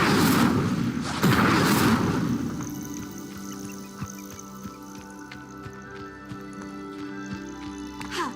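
An Incendio fire spell is cast in Hogwarts Legacy, a loud whooshing burst of flame lasting about two seconds that fades into quiet ambient game tones with soft clicks.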